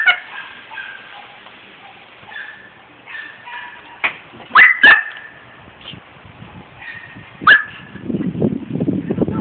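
A dog barks in a few sharp, scattered bursts with yips between them, followed by rustling noise near the end.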